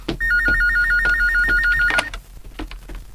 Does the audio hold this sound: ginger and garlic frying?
no